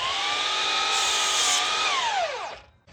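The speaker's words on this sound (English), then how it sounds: "set the miter saw to 22 degrees and make this first finish cut on the end" DEWALT FLEXVOLT miter saw slicing a 2x4 at a 22-degree angle: a loud, steady high motor whine through the cut, then the blade pitch sinks as it spins down to quiet.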